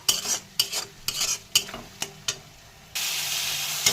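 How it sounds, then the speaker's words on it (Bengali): Mustard paste stirred in hot frying oil for a mustard boal fish dish, a series of sharp spatula scrapes against the pan at a steady rhythm, then a loud continuous sizzle rising at the end. "সর্ষে বাটাটা একটু নাড়াচাড়া করে দিয়ে দেবো"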